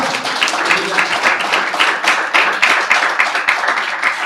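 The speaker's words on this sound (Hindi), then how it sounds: "खुदावंद के लिए तालियां बजाएं" A church congregation claps together during an Easter Sunday service, a dense, steady patter of many hands filling the room for several seconds, with faint voices mixed in.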